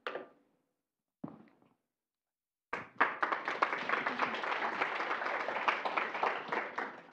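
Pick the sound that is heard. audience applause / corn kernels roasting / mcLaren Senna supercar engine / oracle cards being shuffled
audience applause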